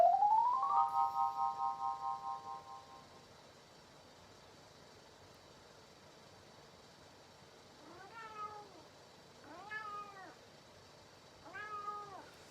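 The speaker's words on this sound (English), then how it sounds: "What you're hearing is my cat who thinks he's starving." A cat meows three times, drawn-out and plaintive, spaced a couple of seconds apart after a rising electronic tone at the start; fairly close and otherwise quiet.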